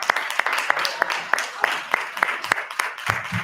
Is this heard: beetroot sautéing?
no